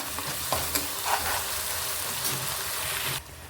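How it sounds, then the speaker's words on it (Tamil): Onion paste frying with green chillies for an Udacha Muttai Kulambu egg gravy, a steady close sizzle with scraping stirring strokes, cut off abruptly near the end. "இந்த வெங்காயம் பேஸ்ட்டு இதை இதில் ஆட் பண்ணிக்கலாம் ஆட் பண்ணி நல்லா ஒரு மிக்ஸ் கொடுத்துக்கலாம்"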